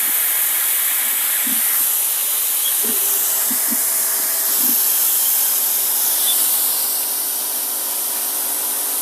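Steam wand on a Quick Mill Rubino heat exchanger espresso machine steams with a steady, loud, bright hiss throughout, with a few faint low knocks and gurgles partway through.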